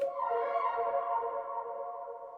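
An ostinato synth preset run through delay and reverb, time-stretched and pitched down an octave, swells in after a brief attack as a warm, sustained ambient drone that slowly fades, heard alone.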